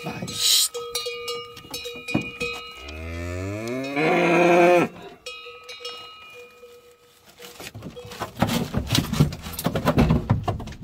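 A cow lets out a long, loud moo, followed by people talking and shouting in Spanish nearby amid rustling and outdoor noise.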